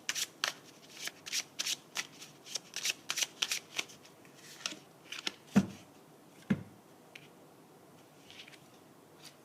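Tarot cards shuffled by hand in a run of quick, crisp riffling bursts and snaps, close and fairly quiet, with a couple of sharper slaps near the end.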